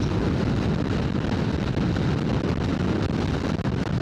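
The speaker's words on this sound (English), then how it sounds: "It's very windy." Constant heavy wind blasting across the microphone from a moving vehicle on the A55 in Wales, a dense roaring rumble with no pauses and no voices.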